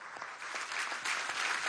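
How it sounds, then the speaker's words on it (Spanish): Applause for military chiefs at the launch of a national vaccination plan in Vargas state, Venezuela: steady, fairly faint clapping from a crowd that swells slightly and continues throughout. "Vamos a darle un aplauso a nuestros jefes militares."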